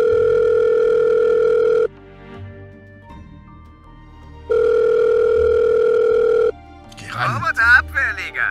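In a Murder on the Orient Express video game, a phone call is placed: two long, steady electronic ringing tones separated by a pause, then a voice starts talking as the call connects.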